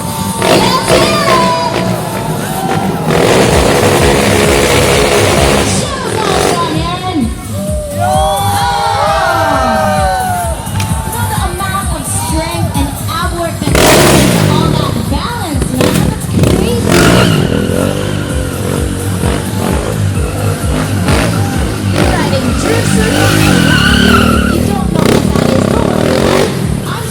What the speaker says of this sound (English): Keeping a bike stationary while spinning its rear wheel.